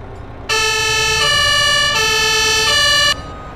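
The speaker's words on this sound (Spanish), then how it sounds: "Cambiar sonido de sirena." A loud fire truck siren in Farming Simulator 22 wails in steady stepped tones, switching pitch a few times over about three seconds before cutting off abruptly.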